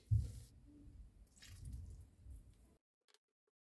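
Soft wet squishing of a hand pressing and testing a piece of stiff dough for Egyptian layered rusks, a brief close squelch followed by quieter kneading sounds that trail off into silence.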